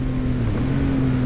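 Motorcycle engine held at low revs in a steady drone while the rider works clutch and throttle for a rev-matched downshift, close and continuous with no talk.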